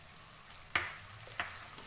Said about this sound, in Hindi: लहसुन अदरक को मैंने हल्का सा भून लिया है